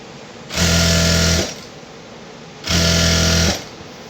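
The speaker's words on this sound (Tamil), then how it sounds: "இப்போ தைச்சோம்ல அதோட எட்ஜு தையல் போடணும்." A sewing machine stitches along a fabric edge in two loud, steady bursts of about a second each, separated by a short pause, with no voices.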